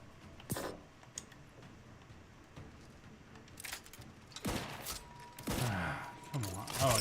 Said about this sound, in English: Don't just shoot in the thin air.